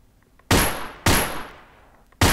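Allied SMG 26-40 firing in Gun Club VR: three sharp, close single shots, each a hard crack with a short fading tail, spaced about half a second to a second apart.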